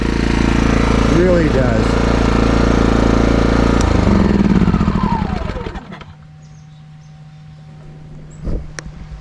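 An AI Volt 3450 watt inverter generator powers a miter saw, the loud saw whine and motor roar running under a voice, then winding down and cutting off, leaving a quieter generator hum with a brief knock near the end.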